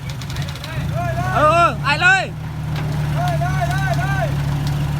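A farm tractor's engine pulls a stuck car on a collapsed roadside shoulder in heavy rain, a low steady drone running beneath several people talking loudly throughout.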